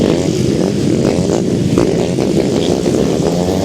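Grasstrack racing motorcycles roar continuously at close range on a grass circuit at a meet, engines droning loud and steady with slight rises and dips as riders power through a turn.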